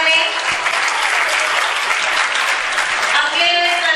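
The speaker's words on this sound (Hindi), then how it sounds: "इसलिए प्लीज तालियां बजाने में कंजूसी ना करें." Steady, loud applause from an audience at a school prize distribution and cultural program, many hands clapping continuously throughout.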